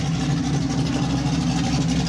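Cars arriving at a Jimmie Cone car show cruise-in in Mount Airy, Maryland: a steady, loud, low engine rumble close by, idling and rolling at low speed with no talk.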